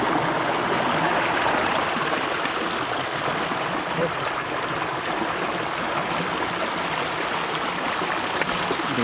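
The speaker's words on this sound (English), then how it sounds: "the water is flowing." Fast water rushing steadily along a stream in a rainy village, a continuous loud, close wash of flow with gurgles, lasting throughout without pause.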